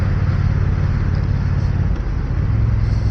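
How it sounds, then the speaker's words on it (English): Engine of a 2025 Triumph Bonneville T120 Elvis Presley Edition motorcycle while riding and shifting gears with the clutch, a steady low rumble with wind noise throughout and a brief dip in the drone as a gear changes. "this is using the clutch, doing some smooth gear transitions"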